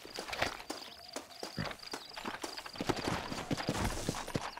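Quick, steady hoofbeats of a horse in Red Dead Redemption clatter along at a brisk pace, with a faint high repeating tone in the background.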